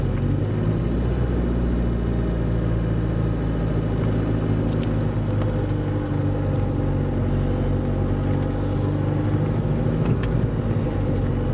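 Car engine held in first gear while descending a steep hill on the Isle of Arran, a steady loud droning rumble heard from inside the vehicle that lasts the whole stretch without pause.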